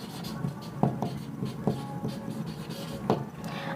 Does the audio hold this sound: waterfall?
no